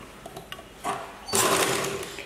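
A sewing machine starts up and stitches a short run along the side seam of a chudithar top, close and fairly loud, preceded by faint handling sounds.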